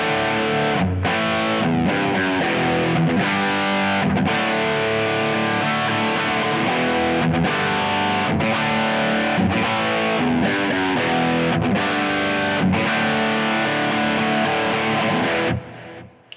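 A distorted electric guitar chugs through a repeating power-chord riff, loud and steady, with brief rhythmic stops and palm-muted gaps before ringing out at the end.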